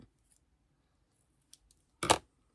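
A few scissor snips during scrapbooking work, with faint small clicks early followed by one sharp, close cut near the end in an otherwise quiet room.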